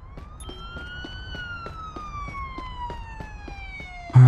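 An ambulance siren wails steadily in the police patrol game Police Simulator: Patrol Officers, a single sustained tone slowly drifting lower, close and clear over a faint rhythmic ticking, with a sharp thud at the very end.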